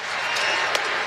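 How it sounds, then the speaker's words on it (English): A World Series baseball crowd reacts to a Shohei Ohtani pitch with a brief, dense wash of stadium noise and scattered clapping, loud and continuous through the moment. "I also think the crowd doesn't like it just because it's Shohei Ohtani"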